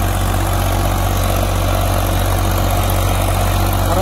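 A seven-foot tiller hitched to a tractor, the engine droning loud and steady under load while working tilled ground, a constant low rumble with no break.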